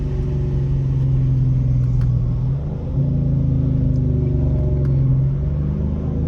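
A Dodge Charger R/T with a muffler delete drones at a steady, loud, deep exhaust rumble from inside the car, with a brief dip before the engine note settles back in.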